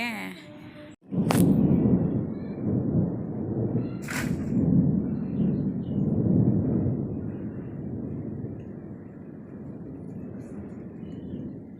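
Thunder rolls in as rain begins in the Malnad countryside: a sharp crack, then a long, loud low rumble that slowly fades under steady background noise.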